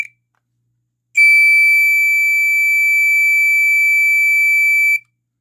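A General Home Products Smoke Sentry 1806 smoke alarm sounds its test tone: one steady, piercing electronic beep held for about four seconds, clean and close, with silence before and after.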